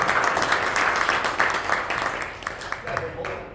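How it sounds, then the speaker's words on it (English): A small audience at a magic show gives applause for three volunteers, a brief run of dense clapping that gradually thins and fades toward the end, with a voice beneath it. "And a round of applause again for all three"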